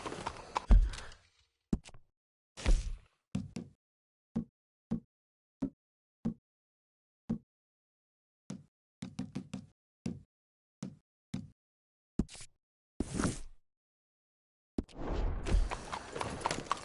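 A horse in the video game Red Dead Redemption II, its hooves thudding in short, evenly spaced clip-clop beats, with a brief rush of louder movement at the start and end and no talk over them.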